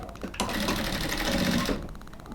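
A sewing machine stitches a designer kameez sleeve, a single loud, close run of fast stitching lasting about a second between quieter moments.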